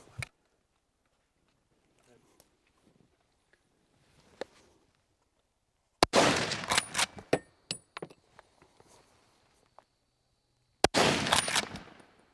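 Two loud, sharp rifle shots fired at targets at 50 and 100 yards with a red dot sight, each followed by a ringing echo tail, separated by a quiet stretch with faint sounds.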